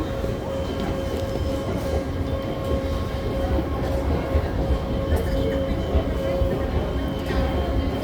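A metro train rumbles at a station platform, with a steady low mechanical drone and hum filling the space, mixed with people talking nearby.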